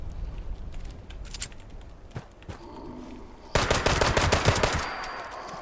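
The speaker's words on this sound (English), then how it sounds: "Yeah, nice. This pistol's nice." Pistol gunfire in Fallout 76, muffled scattered shots giving way to a loud burst of rapid, close-sounding reports that rings out over the final seconds.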